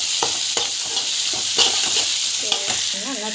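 Tomatoes frying and being stirred in a pan with lentils, a loud continuous sizzle broken by scraping stir strokes, with faint background tones.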